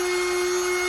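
A power tool routs a groove down the middle of a Morland furniture plywood door panel, a steady, loud, high-pitched whine with no breaks.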